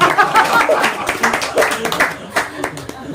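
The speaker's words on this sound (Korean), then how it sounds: "박수 한번." A church congregation breaks into a burst of scattered hand clapping during a sermon, dense and fairly loud, with voices mixed in.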